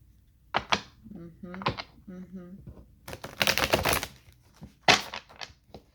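Tarot cards are shuffled in quick riffling bursts, with lighter taps and shuffles before and after, close up.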